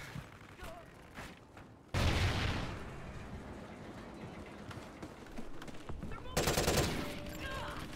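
Call of Duty Ghosts firefight: scattered distant gunshots, then a sudden heavy burst of loud, continuous gunfire and explosive rumble that swells again near the end, dense and close.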